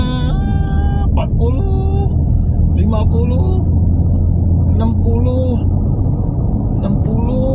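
A Nissan Elgrand's engine drones as the minivan accelerates, a low steady rumble beneath someone talking throughout.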